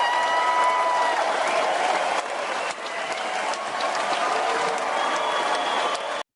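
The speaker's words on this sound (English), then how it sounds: "We got to give a huge round of applause" A large crowd applauding loudly and continuously, dense and sustained throughout, with a slight drop in level partway through.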